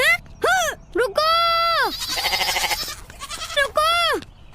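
A goat in a Hindi-Urdu cartoon bleats in several drawn-out, wavering calls, loud and close, with short gaps between them and a buzzier stretch in the middle; no talk over it.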